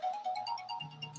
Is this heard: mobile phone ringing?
yes